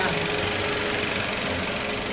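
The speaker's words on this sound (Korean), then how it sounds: "엔진 소리 이렇게 들어보시면 네. 정말 좋게 들리고" A Kia The New K3 with a 1.0 GDI engine runs at a steady idle, giving a continuous, even mechanical hum with a faint knocking texture. The sound stays at one level throughout, with no other sound over it.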